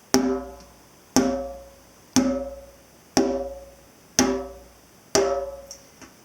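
Six evenly spaced finger-strike tone notes on a djembe, each a bright ringing tone that decays before the next, played alone at a steady slow pace.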